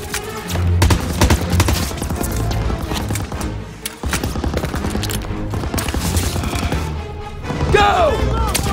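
A Call of Duty WW2 battle erupts in a steady roar of rifle and machine-gun fire mixed with explosions and a music score, while soldiers shout over the din.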